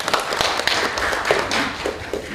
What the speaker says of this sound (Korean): 경남 기후위기 비상행동의 정진영 사무국장님 한 박수로 모시도록 하겠습니다